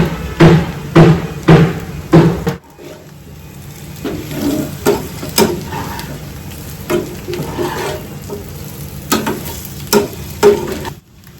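Curry leaves sizzle in hot ghee while a spoon scrapes and stirs the pan, a few rhythmic clanks at the start, then steady crackling frying with intermittent utensil knocks, close and fairly loud.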